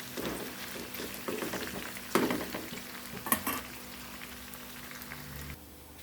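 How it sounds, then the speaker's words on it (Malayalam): Chicken fries in a pan for mandi with a steady hiss of sizzling oil, broken by a couple of sharp metallic knocks, then a softer tail. "ബാക്കിയുള്ള ചിക്കനും കൂടെ നമുക്ക് ഒന്ന് വറുക്കാവേ."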